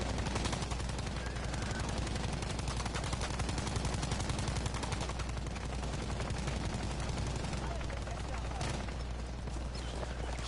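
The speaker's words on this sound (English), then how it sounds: "I'll drop down in on some gun battles here" Gunfire from a team gun battle in a video game, with dense, continuous rattling shots and crackle filling the whole stretch at a steady, moderately loud level.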